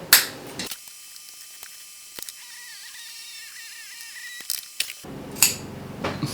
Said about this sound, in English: Next thing I'm going to do is cut the waistband out.